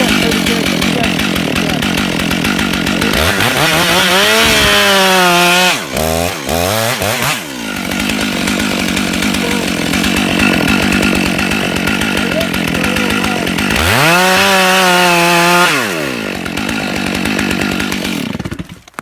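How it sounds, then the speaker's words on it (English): Chainsaw with a freshly sharpened new chain cutting trees outdoors, loud and close, bogging into a cut then revving high between cuts, a second cut bearing down near the end before the engine cuts off. "I've been cutting with the saw for probably about a half hour. It's ripping."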